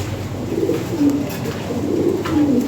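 Red Lahori pigeons coo nearby in low, rolling calls, two or three phrases repeating over a steady background hum.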